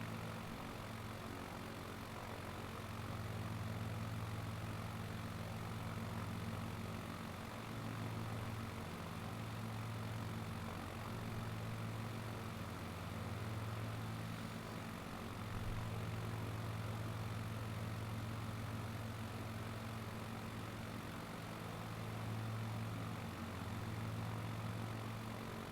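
A small propeller-driven Cub airplane drones steadily in flight, its engine a constant close hum with slight wavering in pitch, loud and continuous throughout with no talking.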